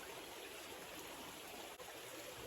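A river flows steadily nearby, a faint, even rushing and trickling with no other sounds.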